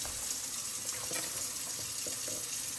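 Water pouring from a tap into a cooking pot of ramen noodles, a steady splashing gush at moderate level with some bubbly fluctuations, continuing without a break.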